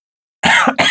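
A single sharp cough breaks out of silence, loud and close, followed by a second short cough a moment later.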